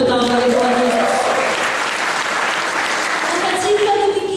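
Steady applause fills a church seminar hall in Kupang as a congregation claps together, dense and continuous, with a voice faintly audible over the clapping.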